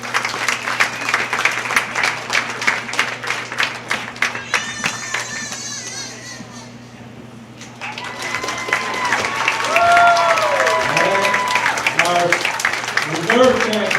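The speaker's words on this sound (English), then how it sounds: "give another nice round of applause here" Crowd applause at a county fair market goat show, sustained clapping through most of the stretch, with a livestock announcer talking over it and audience voices mixed in.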